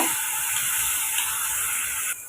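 Steady broadband sizzling of food frying in a hot pan, continuous and close, with no talking.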